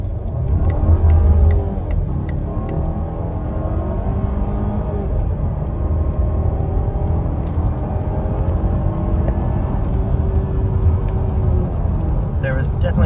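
Volvo with a RaceChip tune launching hard with wheel spin: a loud, close engine roar and drivetrain rumble rising steadily under acceleration, with no talking.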